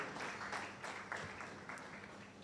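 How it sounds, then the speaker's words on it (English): An audience at a bar association law week event applauds a guest as she walks up, steady scattered clapping heard at a distance and fairly quiet. "Please, a round of applause for her while she makes her way."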